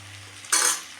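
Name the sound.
vegetables sautéing and being stirred on high flame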